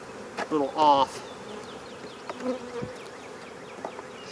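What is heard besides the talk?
honeybees buzzing during hive inspection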